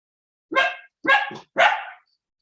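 Dog barking three times in quick succession, close and loud, with silence between barks and no talking.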